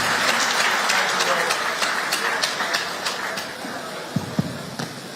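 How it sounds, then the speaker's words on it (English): Audience applause fills a hall at a national opposition political summit in Ibadan, a dense sustained clapping that thins toward the end into a few scattered claps. "Give him a beautiful round of applause."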